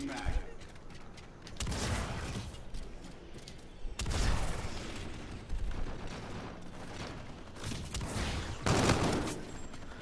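Heavy automatic gunfire rattles through a Call of Duty Infinite Warfare multiplayer match in several loud, close bursts with short lulls between them, mixed with thumps, booms and occasional speech.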